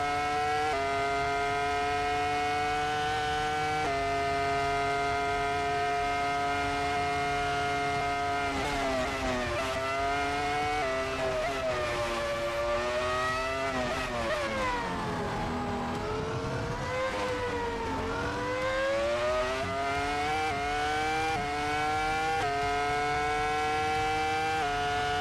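A BMW M3 F80 in Assetto Corsa holds a loud, steady engine drone, then revs rise and fall through gear changes and corners, close and continuous with no talking.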